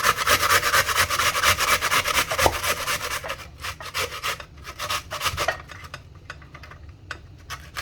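Steady rasping strokes of something rubbed against a grater while peppers are grated for a homemade hair oil, continuous and close, thinning into separate scrapes toward the end.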